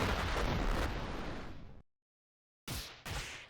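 An explosion attack in the video game Iconoclasts bursts loudly and decays over about two seconds, followed by silence and then two sharp blasts in quick succession.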